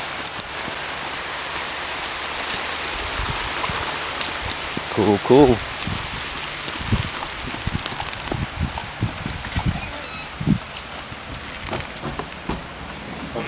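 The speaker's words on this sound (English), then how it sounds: "The rain, baby." Rain falling steadily over a garden at Kauai Farmacy on Kauai, a broad hiss with scattered drop taps and a few louder knocks, while people talk briefly.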